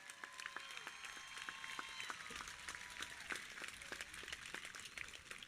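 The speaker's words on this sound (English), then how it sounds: "Let's give our top 10 a thunderous round of applause, please." A large crowd at a high school graduation ceremony applauds steadily, a dense patter of many hands clapping at a distance, with faint cheering mixed in.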